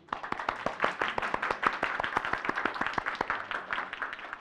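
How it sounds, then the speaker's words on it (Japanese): A group of workshop participants, new university faculty members, clap together for several seconds, with sharp, uneven hand claps repeating quickly and fairly close by. "最後にお互いに向けて、まあ、全員で拍手しましょう。"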